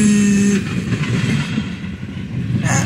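A freight train rolls past at a rail crossing in Deshler, Ohio, giving a loud, continuous rumble of cars close by, with a brief high tone at the start.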